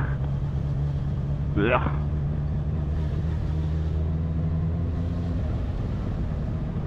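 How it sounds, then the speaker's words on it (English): Heavy road traffic rumbles with a steady low drone of idling and passing engines beside a motorcyclist, one brief sharp squeal rising early, while someone speaks briefly over it. "Look at this traffic, man."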